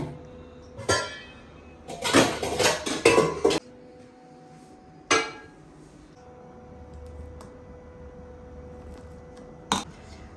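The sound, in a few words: washed dishes and pots being put away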